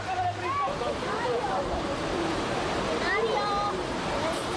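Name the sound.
water pouring from a city fountain in Valencia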